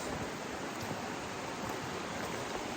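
Fires Creek in North Carolina, a clear mountain stream running past a pool, gives a steady, dense rush of flowing water, close and constant without pauses or voices.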